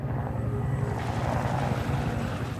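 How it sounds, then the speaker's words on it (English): The presidential helicopter Marine One approaches with a low, steady rotor thrum and engine drone, fairly faint and distant, with no talk over it. "As the President's helicopter approaches"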